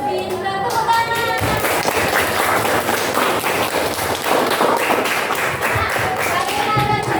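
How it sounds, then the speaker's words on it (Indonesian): Schoolchildren in a classroom clap their hands together in a lively, dense round of applause that lasts several seconds, with voices mixed in. "Pintar, tepuk tangan"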